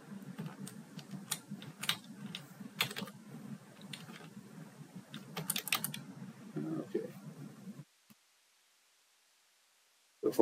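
Computer keyboard bracket keys are pressed repeatedly in irregular clusters of sharp clicks over soft background handling noise, close and fairly clear, stopping before a brief silence and a final click.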